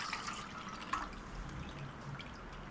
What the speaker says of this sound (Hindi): पहले हम पानी निकालते हैं इसका।